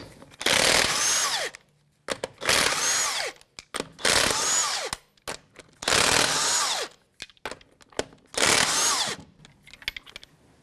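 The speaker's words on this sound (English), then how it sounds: "22mm socket to remove the lug nuts." Five loud bursts of an impact gun or power tool spinning off lug nuts with a 22mm socket on a 2011-2017 Honda Odyssey wheel, each lasting about a second with short gaps, close by and with no talk.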